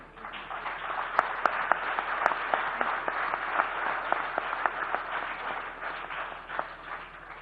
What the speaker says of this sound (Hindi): कंगना रनौत के लिए एक बार तालियों का दौर हो